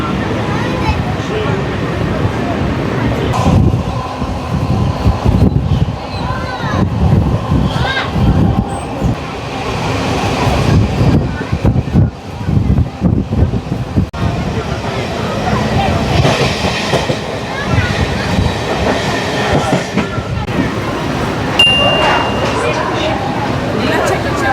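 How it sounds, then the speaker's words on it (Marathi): Mumbai suburban local train pulling out of Shelu station after a short halt, loud continuous rumble and rattling of carriages with clattering wheels and a hiss of air brakes, heard from inside the coach with voices in the background. "आता आपली लोकल परत निघाली."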